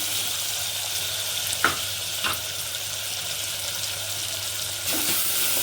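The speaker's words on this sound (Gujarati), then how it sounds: "મરચાં પણ સતળાઈ જાય એકદમ ગ્રેવી જેવું થાય ત્યાં સુધી થવા દઈશું" Chilies and tomatoes frying slowly into a gravy over low heat, giving an even close sizzle with a couple of brief stirring knocks.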